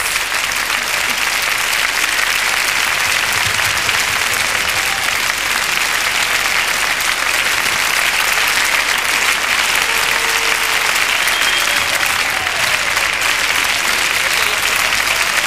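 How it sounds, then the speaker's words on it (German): Sustained, loud applause from a large studio audience fills the hall after the winner is announced at the 1984 German song contest final for Eurovision, a dense steady roar of clapping throughout. "Ihr Applaus"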